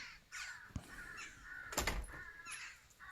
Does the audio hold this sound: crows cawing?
yes